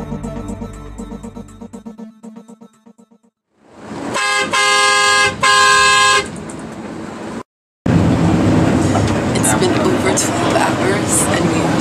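Vehicle horns honking around a bus on a Vietnamese road: scattered short toots at first, then loud repeated multi-tone blasts in quick bursts, a brief gap, and close busy traffic noise with more horns.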